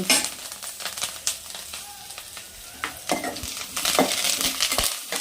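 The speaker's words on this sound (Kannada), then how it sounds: "ಅದನ್ನ ಹಾಕಿ ಅದನ್ನು ಅಷ್ಟೇ ಚೆನ್ನಾಗಿ ಚಟಪಟ ಚಟಪಟ ಅಂತ" Curry leaves crackle and sizzle in hot oil in a pan on low flame, a close, continuous frying hiss broken by sharp pops and spoon stirs that grow busier toward the end.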